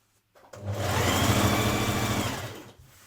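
Sewing machine back tacking at the underarm of a side seam on a New Look 6543 summer top, one short close burst that starts, runs steadily about two seconds and winds down.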